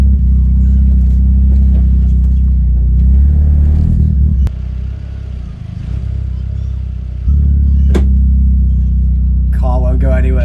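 A car fitted with new tyres that catch at full steering lock revs hard while stuck in place, a loud low engine drone dipping and surging, with a person talking over it.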